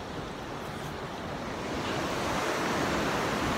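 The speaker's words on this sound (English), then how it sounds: "I'm at the beach" Ocean surf at a California beach rolls in as a broad, steady wash of crashing waves mixed with wind, swelling slightly louder toward the end, with no voices.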